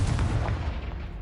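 A Confringo spell blast in Hogwarts Legacy, a loud, dense explosive boom that rumbles heavily through the whole short moment.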